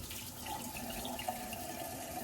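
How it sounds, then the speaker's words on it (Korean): A waterfall-style kitchen faucet runs into a square sink bowl, a steady splashing stream of water with a light hollow ring, continuous and close, heard without talk. "폭포 수전 요즘 많이 쓰십니다. 물이 이렇게 나오죠?"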